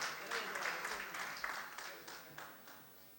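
Audience applause at a Hindi poetry gathering (kavi sammelan) in Hapur, honouring poet Vikas Tyagi; a fairly faint, diffuse wash of clapping from a hall crowd that swells and slowly fades over a few seconds.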